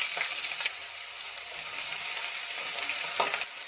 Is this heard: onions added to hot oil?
yes